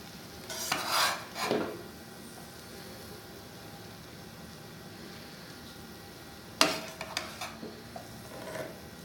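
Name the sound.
stirring rice into chana yakhni pulao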